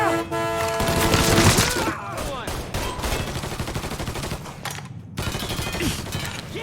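Heavy gunfire from a shootout in the video game Mafia 3, dense bursts and rapid shots clattering continuously and loudly throughout, with brief lulls between volleys.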